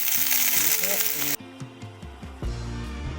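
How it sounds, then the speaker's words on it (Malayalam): Onions sauté in a pan with a bright, loud sizzle that cuts off abruptly partway, followed by quieter frying and stirring sounds under a steady tone. "അപ്പോൾ നമ്മുടെ ഉള്ളിയൊക്കെ വഴന്നിരിക്കുന്നു"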